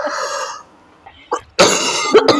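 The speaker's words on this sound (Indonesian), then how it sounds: "Tentunya batuk ini." A single sharp cough bursts out near the microphone, following a stretch of quiet voice and a couple of small throat noises, then trails into a brief rasp.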